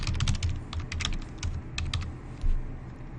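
Typing on a computer keyboard to enter a host name while setting up a Windows Server 2012 R2 virtual machine: a rapid, irregular run of close, crisp key clicks over about three seconds, with no voices.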